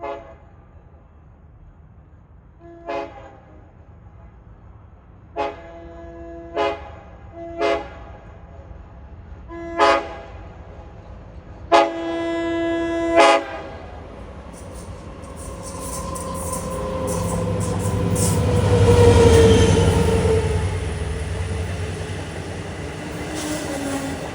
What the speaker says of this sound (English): 508's horn sounds sort of like 422's.